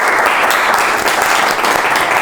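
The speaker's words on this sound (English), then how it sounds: "Clap for him." A classroom audience claps for a student presenter, a dense, loud, even burst of applause sustained throughout.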